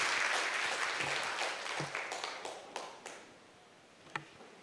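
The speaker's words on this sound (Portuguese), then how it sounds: "Aplauda o Senhor" A church congregation applauds, loud broad clapping at first that thins and fades into scattered individual claps, with one sharp clap near the end.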